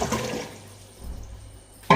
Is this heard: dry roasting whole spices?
no